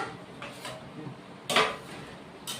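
A metal lid set down over a pot of matar paneer on the stove, giving a sharp clank followed by a second, lighter knock, with softer kitchen clatter around it and no talking.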